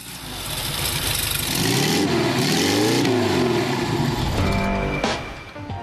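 A 1950s-style VW Beutler with a compressor-equipped VW engine accelerates close by, the engine note rising steadily in pitch then dropping away, followed by a brief lower idle and a final blip.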